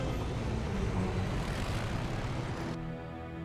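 Steady broadband engine roar of a Chopper VX helicopter flying in Red Alert 3, loud and continuous, then thinning abruptly near the end.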